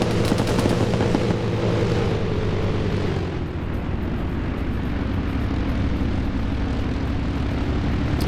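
Low, steady rotor and engine drone of a helicopter flying low during a PvP military video game match, continuous and fairly loud, with a rumbling swell in the first three seconds before settling into an even hum.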